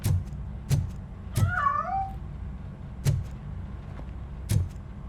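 A cat meows once in a short wavering cry inside the RoboCop Rogue City game, amid several sharp heavy thuds spaced through the scene.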